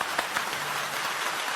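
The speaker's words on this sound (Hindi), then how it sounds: "डॉक्टर जय सिंह आर्य साहब का जोरदार तालियों के साथ स्वागत करें" An audience claps steadily at a Hindi poetry gathering to welcome the poet Dr. Jai Singh Arya, producing a dense, even wash of applause with a few louder claps standing out.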